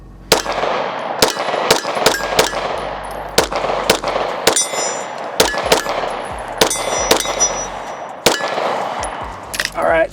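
Pistol shots from a Glock fitted with an SCT frame, about a dozen sharp, loud cracks at uneven intervals with short ringing decay, fired outdoors at a range.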